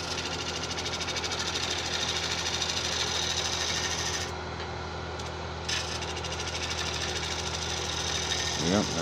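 A gouge cuts a tigerwood bowl on a wood lathe, a steady dense whirring scrape that holds evenly for most of the stretch, dipping briefly midway before resuming.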